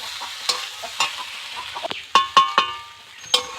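Dalia (broken wheat) stirred in a pan at close range, with a series of distinct scraping strokes and light clinks against a soft frying hiss, and no voices.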